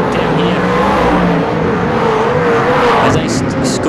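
Super sedan race cars roar at full throttle down the back straight, a dense, loud, continuous engine drone under a commentator's voice.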